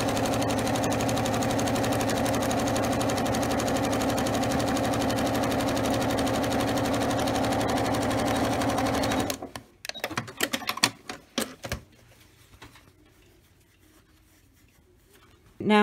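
Sewing machine running a zigzag stitch to join gripper elastic strips onto a cosplay thigh boot, a loud steady buzzing whir for about nine seconds, then stopping into scattered handling clicks and quiet.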